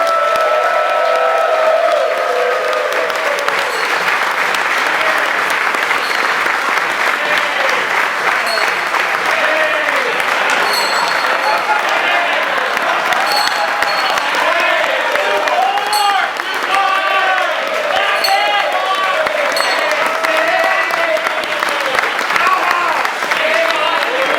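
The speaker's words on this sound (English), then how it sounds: "please give an obligatory round of applause" Loud, sustained applause from a large audience at a roast event, dense clapping filling the whole stretch with some crowd noise mixed in.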